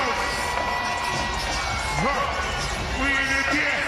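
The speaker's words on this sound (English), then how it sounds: "There's no crowd like a Detroit crowd." Boxing arena crowd in Detroit at a women's title fight, a dense roar of cheering, whoops and shouts filling the space steadily, with voices rising above the din throughout.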